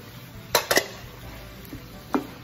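Utensil scraping and clinking against a pan while stirring chicken stir fry with onions and green and red peppers: a quick pair of clacks, then a softer tap and another scrape, with quiet sizzling underneath.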